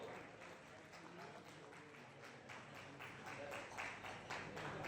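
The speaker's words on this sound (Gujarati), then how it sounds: "તાળીઓના ગગડાથી બતાવી દેશો." An audience at a student award and felicitation ceremony claps in a soft, continuous patter of many hands, fairly distant and low in level, with some background voices mixed in.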